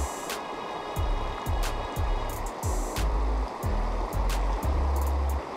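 A Pennsylvania trout creek rushes past in a steady, close wash of flowing water, broken by a series of soft low thumps at a fairly regular pace.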